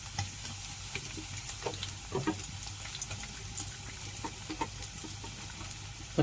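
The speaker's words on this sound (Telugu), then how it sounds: "అలాగే కొత్తిమీర మొత్తాన్ని యాడ్ చేసుకుని ఫ్రై చేసుకోవాలి." Carrot pieces and onions stir-frying in a little oil in a pan: a soft, continuous sizzle with scattered scraping and stirring clicks, quiet and close, with no talking.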